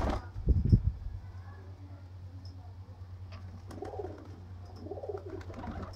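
Sialkoti pigeons coo softly at close range, low throaty rolling calls in a couple of bursts over a steady background hum, with a brief fluttering or handling noise at the start.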